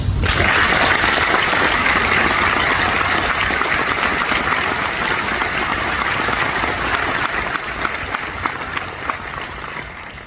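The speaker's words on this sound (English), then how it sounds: "would you please join me in a round of applause" Loud, sustained applause from a large audience at an award presentation, a thick wash of clapping that holds steady and tapers slightly near the end.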